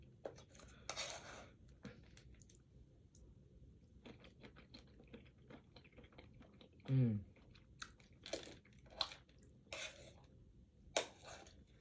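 Close, quiet chewing of crunchy nuts: irregular crisp crunches and bites, with a soft clink of cutlery and a brief throat sound in between.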